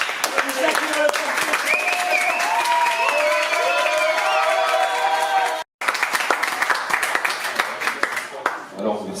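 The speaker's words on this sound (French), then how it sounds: "Je vous demande vraiment de l'applaudir très fort" An audience at a slam poetry evening in Nice applauds and cheers loudly and continuously, cutting out briefly near the middle, then resumes and fades toward the end.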